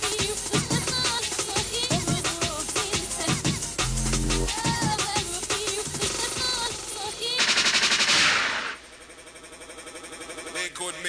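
A gunshot sound effect fired in a drum and bass DJ mix, sharp blasts over dense music, followed by a loud burst and a rewind break as the track cuts out.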